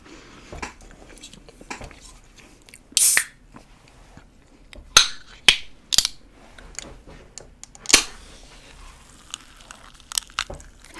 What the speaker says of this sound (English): I'm gonna open my Fresca, hopefully quietly.